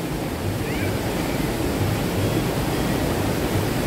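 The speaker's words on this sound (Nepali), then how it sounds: "खोलाको आवाज जुन आवाज चाहिँ नि सुन्दा आनन्द आउँछ यो पानी खोलाको आवाज" A swollen, muddy monsoon river, the Indrawati and Bishnumati, rushes fast past a riverside temple ghat, making a steady, dense roar of flowing water that fills the whole clip without a break.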